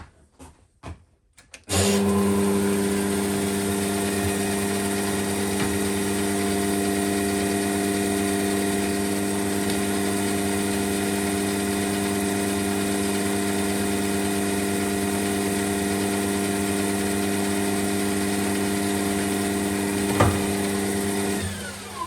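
A lathe motor starts up after a moment of quiet and runs as a steady, tonal hum with a faint whine while drilling the start of a bore into wood for a pipe using the quill, loud and unbroken.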